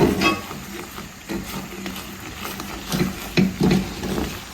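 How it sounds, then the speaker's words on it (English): A spoon stirs lime juice into a sticky ginger caramel mixture, making soft scraping and gentle bubbling sounds in uneven strokes, close up with no talking. "stir it in"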